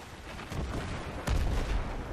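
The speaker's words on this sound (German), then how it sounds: "Alter, die ganzen Explosionen." Dense, rumbling blasts and booming gunfire in Battlefield 3 fill the scene continuously, with a sharper, louder explosion landing partway through.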